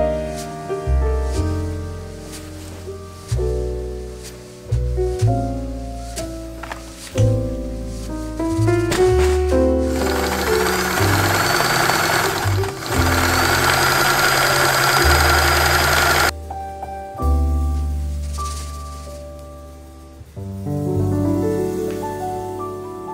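A sewing machine hems a floral spring dress in a run of close, steady mechanical whirring bursts that stop and start, with one longer continuous stretch near the middle and no talking.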